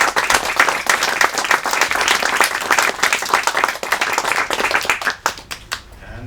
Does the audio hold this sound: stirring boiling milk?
no